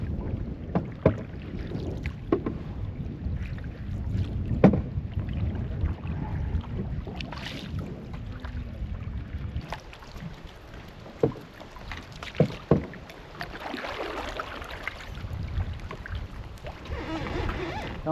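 Canoe paddling on the French River near Georgian Bay, with soft water swishes and occasional splashes under steady wind noise, close and moderately loud throughout.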